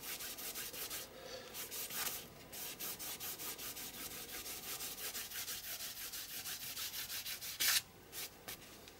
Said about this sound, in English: I've just scraped the page with the nozzle of the paint pot